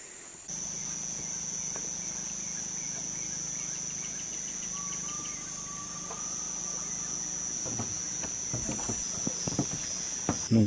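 Insects the locals call cicadas, in the Peruvian Amazon rainforest, keep up a steady, dense high-pitched drone with a lower buzzing layer. A brief whistling tone drifts through midway, and a few nearby taps and knocks come near the end.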